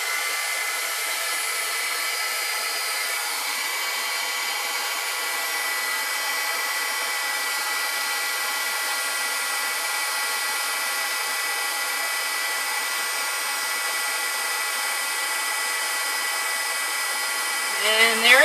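A heat tool melting silver embossing powder blows with a steady, loud whirring hiss for the whole stretch, constant and unbroken, with a brief rustle at the very end.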